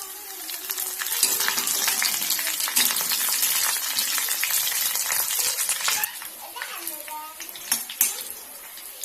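Grated coconut, with curry leaves added, roasting to golden brown in a pan for a Kerala crab curry, giving a close, continuous frying crackle with spoon scrapes and a few metallic clinks near the end.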